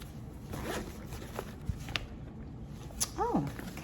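A zipper on a small lunch kit is pulled open in a few quick, close rasps, with light handling rustle before it and a short squeaky noise at the end.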